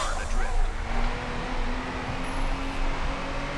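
A racing video game car slides through a drift, its engine droning steadily with a sustained whine and tyre noise, continuous and fairly loud throughout with a voice talking over it.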